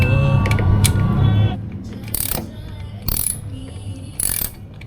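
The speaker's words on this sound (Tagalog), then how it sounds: "gamit tayo ng 8mm para mabuksan natin yung mga tornilyo ng crankcase" An 8mm socket wrench loosening crankcase screws on a Suzuki Burgman EX scooter, giving a close, clicking ratchet that works in short bursts after a brief mechanical rattle, with no talking.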